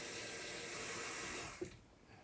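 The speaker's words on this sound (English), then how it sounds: "We're gonna put 7 cups of water in here." Water runs steadily from a kitchen tap into a soup pot holding chicken, being filled toward seven cups. The faint, hissing flow continues, then cuts off with a soft splash near the end.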